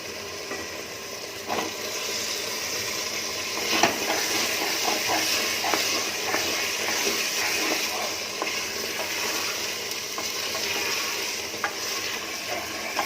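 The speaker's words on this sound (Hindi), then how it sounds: "काजू को गिर को भी मैंने 2 मिनट भून ली मसालों में।" A constant sizzle of cashews frying in spice paste in a pan, with occasional scraping stirs and soft clicks, close and steady with no talking.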